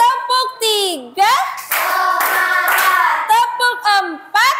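A class of primary-school children in an Indonesian classroom clap hands in a rhythmic counting clap routine, bursts of claps mixed with loud, sing-song children's voices chanting along.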